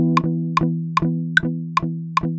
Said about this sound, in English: The first pattern is to just play eighth note power chords.